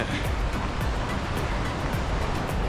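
Water from the Krimml waterfalls in Austria rushes in a steady, loud, broadband roar, continuous and without pause, with no voices heard.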